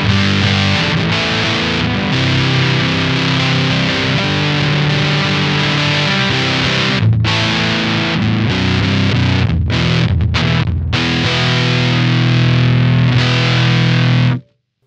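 An electric guitar runs through a Dunlop MXR Mini Fuzz Face pedal and plays loud, thick, saturated fuzz chords that sustain continuously. Brief choppy gaps break the sound partway through, and it ends with an abrupt cutoff.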